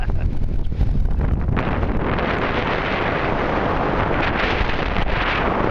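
Strong wind gusting on a sandy beach near the high tide line, a loud, roaring rush buffeting the microphone continuously, with no voices.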